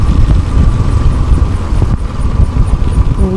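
A motorcycle engine idles while coasting slowly downhill on a mountain road from Kurseong toward Siliguri, a steady low rumble with rushing wind and road noise, loud and continuous, with no talking.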